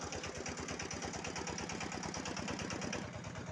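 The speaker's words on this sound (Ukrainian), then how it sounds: "Працює генератор." A homemade generator built from a three-phase electric motor runs steadily, giving a loud, continuous mechanical hum with a rapid rhythmic chatter close by and no voices.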